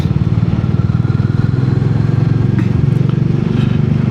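A Royal Enfield Meteor 350 motorcycle being ridden on roads near Bonn by the Siebengebirge and the Rhine, its engine a steady, close, continuous thumping drone throughout with no talking.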